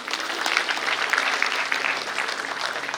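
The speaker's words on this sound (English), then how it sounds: "Give for yourself a big round of applause." A large crowd at an inter-college project expo breaks into sustained, loud applause, steady clapping that fills the whole stretch.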